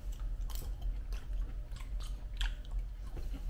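Close-up, soft crunchy chewing of a baked apple: a series of short, irregular bites and mouth sounds with no talking.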